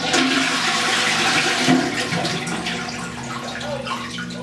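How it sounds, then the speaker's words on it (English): A chain-pull toilet in Havana, Cuba, flushes with a loud, steady rush of water that holds for about four seconds and then slowly fades, close up and with no talk over it. "Here, I learned that flushing a toilet meant this."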